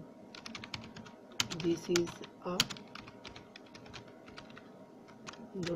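Computer keyboard keys tapped in quick, uneven bursts while a title is typed, close and fairly quiet, with a few louder strokes in the middle.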